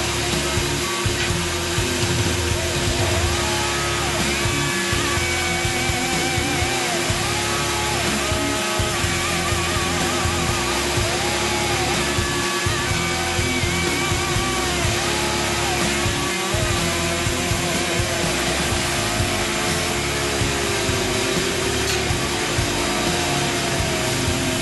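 A power grinder works steadily on a wakizashi blade to even out scratches and lower its grind line, a loud, continuous whining roar with a steady high tone and a rasping texture.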